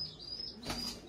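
A short, faint whoosh of wingbeats rises and falls as young KTM pigeons are released into flight, with a few soft chirps behind it.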